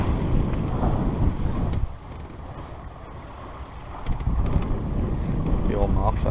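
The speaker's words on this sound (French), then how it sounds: "Il y a 15 nœuds de vent." Strong wind roars and buffets the microphone aboard a sailboat, with water rushing past the hull; the gusts ease briefly midway, then return.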